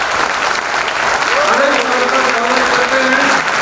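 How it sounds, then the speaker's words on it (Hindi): An audience at an LIC Mumbai Division 1 event breaks into loud, dense applause that holds steady throughout, with a voice calling out over the clapping. "दोस्तों एक बार जोरदार तालियों के साथ"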